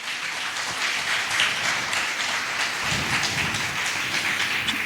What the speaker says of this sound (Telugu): ఒక్కసారి చప్పట్లు కొట్టి ప్రభువును మహిమపరచుదాం